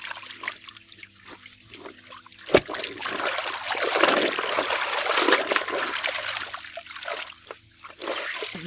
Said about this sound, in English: So we are just rinsing the jeans